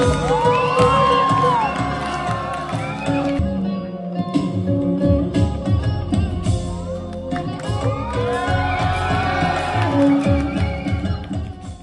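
A college crowd at a Kalolsavam arts festival cheers, whoops and claps continuously, loud and dense throughout, with music and shouting mixed in.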